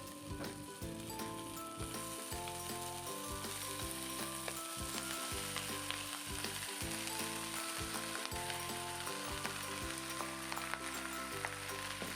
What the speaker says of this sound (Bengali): আমি ভাতটাকে ভালো মতো নাড়াচাড়া করে নেব